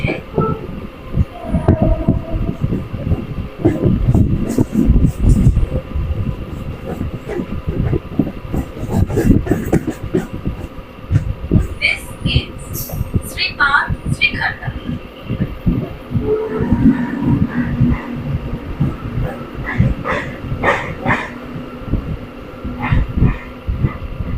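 A passenger train leaving Katwa station toward Barddhaman rumbles steadily along with continuous low clatter and rolling noise, with occasional higher squeals and some faint talk in the background.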